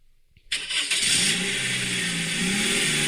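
Video game car engine starting after a moment of quiet, catching abruptly, then revving up into a loud, sustained roar close by.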